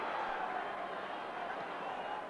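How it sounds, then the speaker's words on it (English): Football crowd at an FA Cup tie between Norwich City and Southampton, a steady dense roar of many voices urging the team on, continuous and fairly distant throughout. "The crowd urging them forward."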